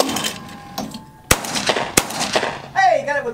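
Two sharp shotgun blasts at a skeet range, spaced well apart, each cracking a clay target packed with an explosive charge, followed by people talking nearby.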